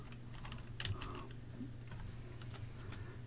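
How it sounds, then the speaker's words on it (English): Computer keyboard keys pressed in quick irregular bursts while entering text for a web page layout, light close clicks over a soft steady room hum. "And then I'm going to type lorem"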